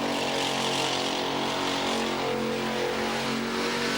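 A car doing a burnout on the donut pad at the Summernats competition, its engine held at a loud, steady high rev with a continuous roar and tyre hiss, no letup.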